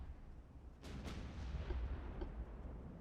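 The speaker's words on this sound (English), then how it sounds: "I'm hearing torpedoes" Muffled launch thumps of torpedoes fired from the player's own warships in Ultimate Admiral: Dreadnoughts, two soft bursts followed by a low rumbling wash, faint and distant.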